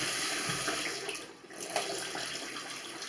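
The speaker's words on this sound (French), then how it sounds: "prenez un bac, vous renversez de l'eau chaude" Hot water poured from a basin over a kitchen sink splashes in a steady rushing stream for about three seconds, moderately loud and close, with no talking.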